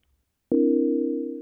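Sonic Pi live-coding synth sounds a single chord, a clean sustained electronic tone that starts abruptly after brief silence and holds steadily, slightly fading, with no voices.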